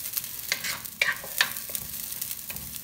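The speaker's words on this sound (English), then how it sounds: "I want to start with adding some shaved garlic" Shaved garlic frying in olive oil in a cast iron Dutch oven, a soft steady sizzle with crackling pops and occasional stirring scrapes, close and fairly quiet.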